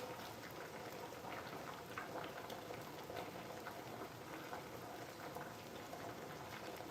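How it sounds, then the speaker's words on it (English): Potatoes boiling in a pot on a home stove, a steady bubbling hiss and patter that runs evenly and faintly throughout with no talking. "Y'all hear those potatoes boiling?"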